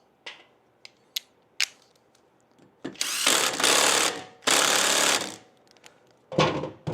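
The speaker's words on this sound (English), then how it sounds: "we'll run that one home and tighten it up as well" A tool driving a T27 Torx bolt on the rear brake arm of a Lowrider S motorcycle: sparse sharp clicks, then three loud, close bursts of rattling power-tool impacts, each lasting about a second.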